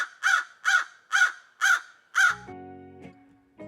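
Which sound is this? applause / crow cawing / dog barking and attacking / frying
crow cawing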